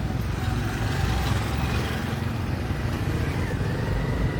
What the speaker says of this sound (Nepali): ल, गाडी आइसक्यो